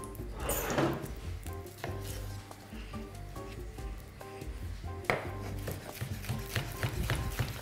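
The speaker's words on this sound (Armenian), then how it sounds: "Շերտատում ենք ձողի կաձև։" Knife cutting red sweet pepper into strips on a board, repeated close chopping taps in an uneven rhythm with faint kitchen clatter, no talk.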